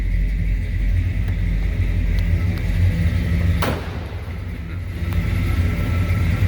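A 1988 Chevrolet Suburban with a 350 V8, fitted with different valve covers, idles steadily with a deep, even rumble close by, briefly dipping before settling back into its low drone.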